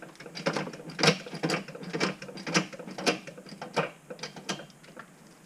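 A hand ratchet wrench tightens the sway bar bushing bolts on a Honda CR-V, giving a rapid series of close, sharp ratcheting clicks in short bursts with brief pauses between strokes.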